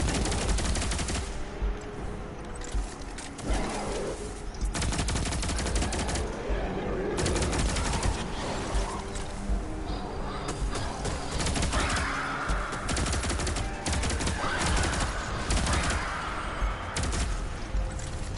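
Rapid gunfire from a gun in Destiny 2, a loud, sustained stream of shots that keeps up steadily throughout amid game effects.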